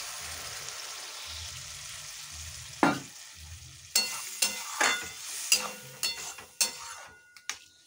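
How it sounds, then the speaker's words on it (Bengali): Water is poured into a pan of fried food, and a broad hiss of sizzling and bubbling rises with a series of sharp bursts and spatters. A metal utensil scrapes and clinks against the pan, and no one speaks. "ভাজা হয়ে গেছে, আর আমি জল দিয়ে দিচ্ছি,"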